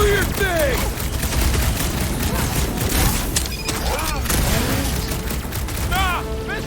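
Rapid gunfire and blaster shots in Marvel's Guardians of the Galaxy video game, dense bursts with booms and mechanical clatter alongside game effects and character voices shouting over the action.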